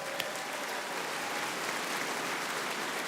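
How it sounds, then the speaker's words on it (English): Audience applause at the Roblox Innovation Awards, a soft even wash of clapping heard from a distance, quiet and continuous without speech. "I want to do a big round of applause for the live streamers at home."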